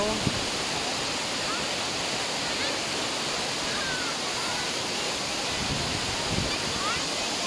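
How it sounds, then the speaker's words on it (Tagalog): A powerful waterfall pours with a constant broadband roar, steady and loud throughout, masking almost everything else. "Ayun yung falls na lakas Sobrang ganda."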